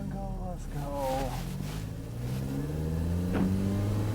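A Mazda Miata engine picked up at the intake, a steady mid-pitched drone that climbs in pitch as the car turns around and accelerates, with someone talking over it.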